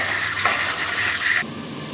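Rice being rinsed in water in a home kitchen before cooking khichuri: a close rush of pouring, splashing water that cuts off abruptly near the end, leaving quieter room sound, with no voices.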